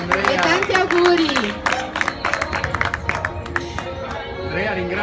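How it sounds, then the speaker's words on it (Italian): An audience applauds Andrea with a steady patter of many hands mixed with crowd murmur and some cheering, while a voice talks over the clapping. "allora un applauso ad Andrea"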